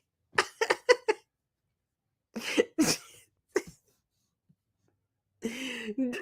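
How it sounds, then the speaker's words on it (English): A person coughs in two bursts: a quick run of four sharp coughs, then a few heavier hacking coughs a second later, and finally a rougher cough mixed with strained vocal sound, all close to the mic. "I'm coughing so bad"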